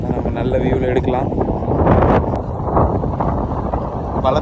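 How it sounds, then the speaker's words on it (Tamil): Strong wind buffets the microphone at a port in Greece with large cruise ships nearby, a continuous loud roaring rush with someone talking over it. "பலத்த காற்று அடிக்குது."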